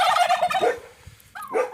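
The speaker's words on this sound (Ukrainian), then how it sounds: "У нас тут є індики." Farmyard turkeys gobble loudly and close by, two rapid warbling calls separated by a brief pause.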